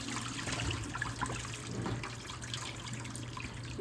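Cooking greens are swished and rinsed in water at a kitchen sink, producing a steady splashing and trickling wash at moderate, close range with no voices.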